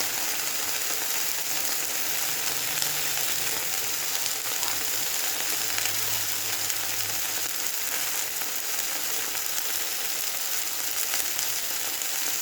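Turmeric and spices sizzle steadily in a hot pan: a continuous, even frying hiss at moderate level with faint stirring scrapes and no talking.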